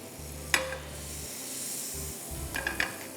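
Butter sizzles in a pan for a butter chicken dish, a soft steady hiss broken by a few sharp clinks and scrapes of utensils against the pan, close by and without speech.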